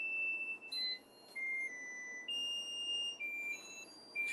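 A kitchen oven timer beeps in a quick run of clear, high electronic tones, steady and fairly loud, with short gaps between the beep groups and no talking.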